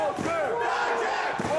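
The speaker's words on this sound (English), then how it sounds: "The deafening crowd trying to keep him away" A deafening crowd at a wrestling match between Gunther and Dijak roars and chants continuously, with loud, sustained cheering and shouting filling the arena throughout the short stretch.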